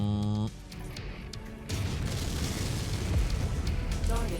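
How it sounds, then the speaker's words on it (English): Missile explosions in the MechWarrior 5: Mercenaries video game land as heavy, rumbling blasts that swell into a dense, continuous roar, following a brief tonal beep at the start. "See, I think that's missiles."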